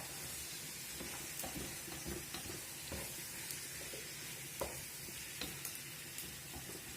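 Carrots fry quietly in a frying pan for plov, a soft continuous crackle with occasional clicks and scrapes as they are stirred.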